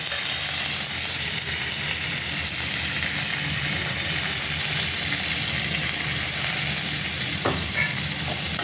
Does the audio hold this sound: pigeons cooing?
no